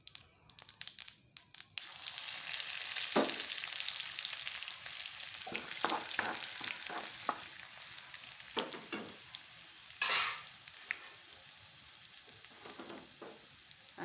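Cumin, mustard seeds and garlic fry in hot oil with a continuous sizzle and crackle, broken by sharper pops and stirring scrapes, moderately quiet with no talking.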